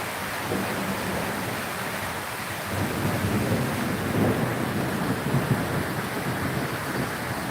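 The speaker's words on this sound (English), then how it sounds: "I love it when you get to listen to these storms pounded on the tin roof" A steady wash of heavy rain pounding on a tin roof with low, rolling thunder swelling in the middle and lingering rumbles, no voices.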